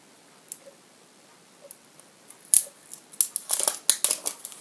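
Plastic film being peeled and torn off an Apple power adapter, starting as sparse faint crinkles and building into a quick run of louder crackling, tearing rustles near the end.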